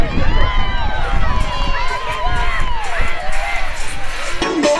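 Spectators at a cross-country race in Hannut shout, whoop and cheer for passing runners, loud crowd voices and children's shouts layered over footfalls, with a commentator talking throughout.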